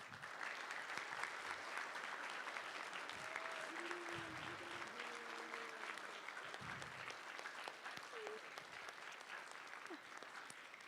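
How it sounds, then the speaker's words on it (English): Audience clapping for the seniors at a school play, steady applause that stays fairly quiet and distant, with brief cheers and calls rising now and then. "give you an extra special clap"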